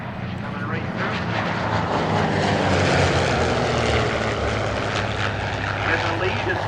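A P-47 warbird roars past in a tight formation with a P-51C and a second P-47 at a 2024 St. Louis air show, giving a loud, continuous piston-propeller drone that swells gently as the aircraft pass.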